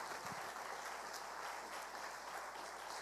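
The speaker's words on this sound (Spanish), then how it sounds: "Dale un fuerte aplauso a Dios por esa revelación." Church congregation applauding during a sermon, a steady dense roar of clapping heard at a distance, with no talk over it.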